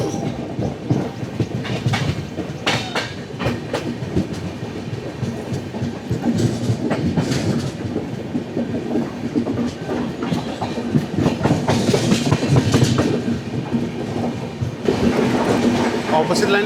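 The Hubballi-Hyderabad Express pulls out of Shahabad station, its wheels beating a steady clickety-clack that grows louder over time, with voices talking in the carriage.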